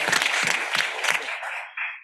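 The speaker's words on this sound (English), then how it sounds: "a round of applause" At a kidney cancer conference session, an audience claps in a brief burst of applause that quickly thins out to a few scattered claps.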